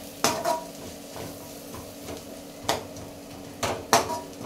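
Onion and egg are sautéed in a pan for semiya biryani, with a spatula scraping and clanking against the pan in a few sharp knocks over a soft background hiss.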